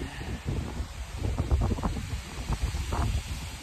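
Strong gusty wind buffets an outdoor microphone in bad weather, a continuous low rumbling roar with uneven surges, loud and close throughout with no voices.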